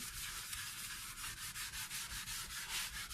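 Steady back-and-forth scrubbing of a stainless steel sink with silver stone cleaner, a rhythmic rasping rub repeating roughly every quarter second, close and continuous with no voices.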